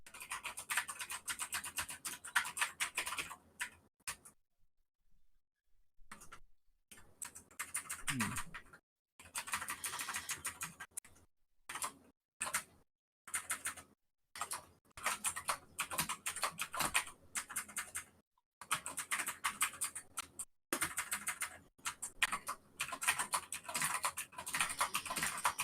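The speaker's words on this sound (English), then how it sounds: "We can hear the wonderful clacky keyboard." Typing on a clacky, backlit mechanical keyboard while making teletext art, with bursts of sharp close key clicks separated by short silent pauses and faint voices now and then.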